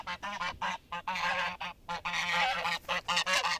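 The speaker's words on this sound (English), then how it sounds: "We got honked at by their geese" Farmyard geese honk close by in quick, repeated bursts, a noisy chorus of overlapping calls with brief pauses between squawks.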